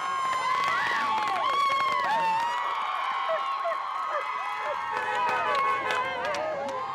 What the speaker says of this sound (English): the crowd outside the courthouse erupted in applause and cheers